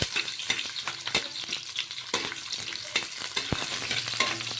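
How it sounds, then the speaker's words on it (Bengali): Chunky-cut onions fry in hot oil in a pan, a steady close sizzle with sharp crackles and the scrape of stirring recurring throughout, with no voices. "একটু পেঁয়াজটাকে ভেজে নেব"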